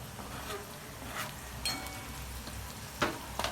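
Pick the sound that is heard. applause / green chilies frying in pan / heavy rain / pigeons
green chilies frying in pan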